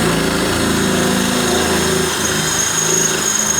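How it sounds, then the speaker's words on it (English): A power drill whines at a high, steady pitch, drilling out a rivet on a Ford E-250 power window regulator, running loud and continuous for a few seconds without pause. "Now we'll just drill out the rest of the rivet."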